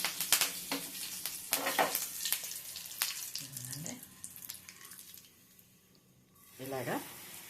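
Mustard seeds, cumin, urad dal and curry leaves frying in oil, giving a soft sizzle with scattered pops and clicks of a spoon against the pan, fading quieter before a brief burst near the end, with a voice talking over parts of it.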